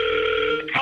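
An outgoing call rings through the Go High Level dialer, a steady electronic ringback tone sounding loud and continuous before briefly breaking up at the end.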